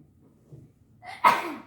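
A single sharp sneeze bursts out after a soft intake of breath, close and fairly loud in an otherwise quiet room.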